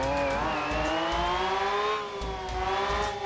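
A loud car engine drones in the BeamNG driving game, a sustained piercing whine that rises in pitch, dips briefly and climbs again, heard alone and close.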